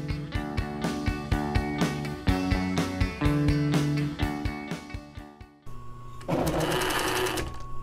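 A sewing machine stitches cording onto a seat cushion in rapid bursts of close, rhythmic mechanical clatter, pausing briefly between runs, then whirring on once more near the end with no talk.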